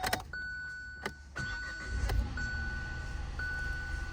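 A Hyundai car engine with a camshaft position sensor fault cranks and starts, runs with a steady idle, with a few sharp clicks and a faint high whine along the way.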